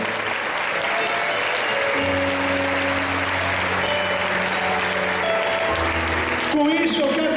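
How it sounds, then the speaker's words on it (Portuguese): Congregation applauding during a church patron saints' festival service, a steady dense wash of clapping throughout with organ or keyboard tones sustained underneath, swelling slightly near the end. "Aplauda o Senhor"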